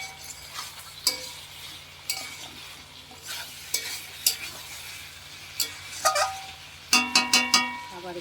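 Meat frying in a pan on a stove while being stirred: a steady sizzle with scraping strokes and sharp clinks of a utensil against the pan, thickening into a quick run of metallic knocks near the end, with no talk.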